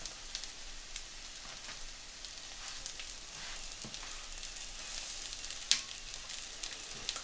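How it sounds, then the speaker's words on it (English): An egg fries on a hot griddle at a Lahore street food stall making aloo tikki burgers, a soft continuous sizzle with faint crackles and one sharp clatter, no talk. "And in goes the egg next, once I've taken these tikkis out."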